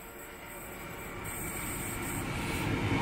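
Train hauled by sister locomotives CF4407 and CF4408 passing at Wondabyne, a broad steady rumble of rail wagons that swells gradually over a few seconds, continuous and fairly close, with no voices.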